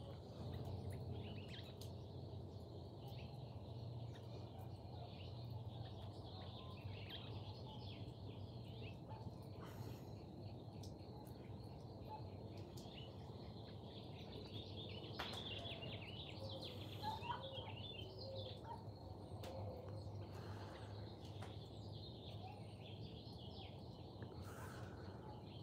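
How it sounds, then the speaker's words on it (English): Birds sing and chirp through a morning outdoor setting, with insects or crickets faintly in the mix; the calls are steady but fairly distant and soft over a constant low background hum, with no talking. "Just tuning in on them birds."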